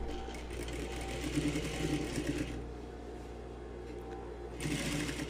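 Sewing machine running a backstitch on tailored waistcoat fabric, a low steady motor hum with bursts of rapid stitching that pause midway and then start up again, close and alone.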